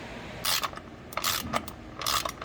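Ratchet wrench tightening the oil drain bolt on a BMW E39 M5 during an oil change, three close bursts of rapid clicking with short pauses between them, no voices.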